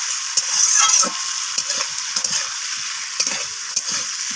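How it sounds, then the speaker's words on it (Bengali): Eggplant pieces fry in oil in a pan for a rohu fish curry, with a constant bright sizzle and repeated soft scraping taps as they are stirred and turned. "তো বেগুনটাকেও আমি ভেজে নিচ্ছি এইভাবে নাড়াচাড়া করে।"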